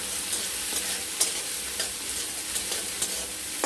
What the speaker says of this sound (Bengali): এবার পেঁয়াজটা একটু লাল লাল করে ভাজা হোক।